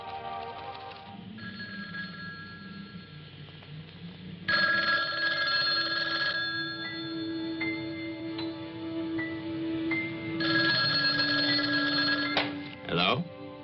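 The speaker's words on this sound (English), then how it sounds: "How about that telephone up at the Butler house? Is it working?" An old telephone rings in bursts in a 1972 American slasher film, its shrill bell sounding several times over a background of sustained tones and ambient sound.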